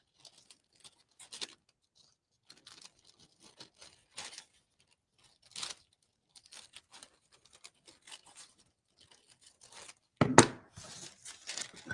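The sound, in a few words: trimming decoupage napkin paper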